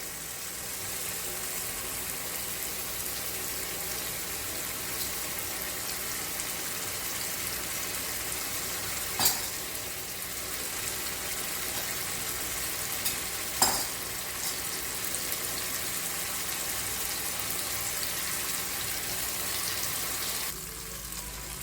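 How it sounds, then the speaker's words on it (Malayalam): Marinated chicken frying in oil in a pan, a steady sizzle running the whole time with a couple of brief clinks from stirring, no voices. "ഇങ്ങനെ മാരിനേറ്റ് ചെയ്ത ചിക്കൻ നമുക്കിവിടെ വറുത്തെടുക്കാം."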